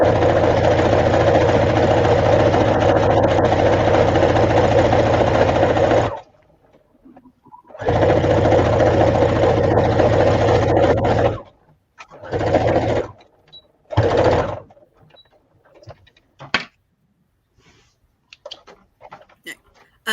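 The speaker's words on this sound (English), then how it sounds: "I feel like Michelle's sewing machine is faster than mine." A sewing machine runs fast and steady for several seconds, stops, then starts again, with shorter bursts of stitching after.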